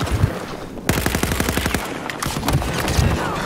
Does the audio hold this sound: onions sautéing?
no